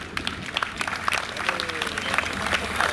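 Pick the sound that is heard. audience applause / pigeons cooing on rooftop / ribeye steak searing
audience applause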